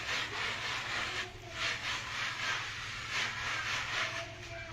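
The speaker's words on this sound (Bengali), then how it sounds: "ডালটা আমি বস্তায় ঘষে নেব এই খোসাটা তোলার জন্য" Dry lentils rubbed against a jute sack to strip their husks, a continuous rough scraping that swells and eases in a steady back-and-forth rhythm, close and fairly quiet, with no talk.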